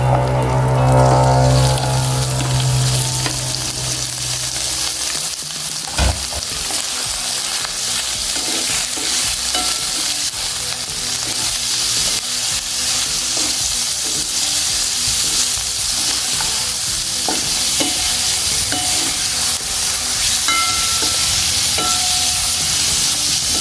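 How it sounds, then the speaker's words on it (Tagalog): Meat sizzles loudly in a pan with sautéed onions and garlic, a dense continuous frying hiss after a brief stir and clatter as the meat goes in, close and steady throughout. "Naluto na yung ating sibuyas. Lagay na natin yung ating karne."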